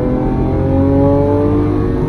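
A Lamborghini Aventador SVJ engine accelerates close by, a loud, steady V12 drone with rising harmonic tones sustained throughout.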